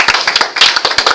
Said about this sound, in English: A round of applause for Megan